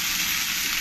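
Tomatoes, onions and soaked cashews frying in a pan, a dense, continuous close-up sizzle at steady loudness throughout a brief moment.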